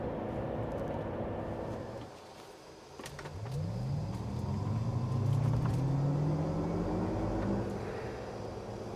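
GMC Hummer EV electric pickup truck accelerating, a low rumble with rising electric motor whine tones sweeping upward as it gets moving, fairly close and steady with no voices.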